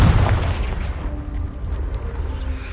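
A Confringo blasting spell in Hogwarts Legacy blows apart a piled-up barrier, starting with a heavy low boom that settles into a rumbling, crumbling tail of debris.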